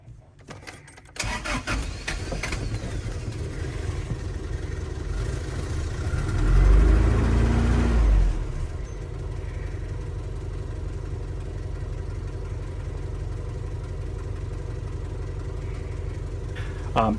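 A car engine cranks and catches, swelling into a louder rev for a couple of seconds, then settles into a steady, even idle that runs on to the end.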